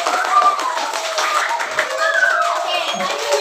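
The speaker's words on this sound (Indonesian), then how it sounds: "Kita kasih tepuk tangan." A primary-school class claps together for a classmate, a brisk burst of many hands mixed with children's voices, continuing throughout.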